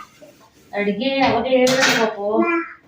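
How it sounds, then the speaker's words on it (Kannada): Dishes and pots clatter loudly in a short burst of washing, metal and cutlery clinking together after a quiet moment. "ಇವಾಗ ಪಾತ್ರೆ ತೊಳಗ್ತಾ ಇದ್ದಾರೆ"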